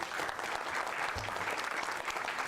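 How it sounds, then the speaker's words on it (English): Applause from a college lecture audience at Stockport College, a dense, steady clatter of many hands clapping throughout the short stretch. "Round of applause for Luke."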